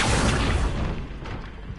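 A blast from an explosive spell in the video game Hogwarts Legacy lands as a single loud, close boom. It breaks with a burst of rumbling noise that dies away over a second or two.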